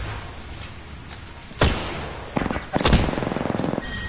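Gunfire in the video game Apex Legends: a single sharp shot, then a quick string of rapid automatic bursts, close and punchy.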